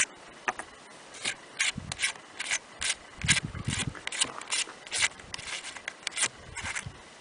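The turret caps on a Savage Axis rifle scope in .243 Win are unscrewed by hand, giving quiet, irregular scraping, rubbing and faint clicking close by.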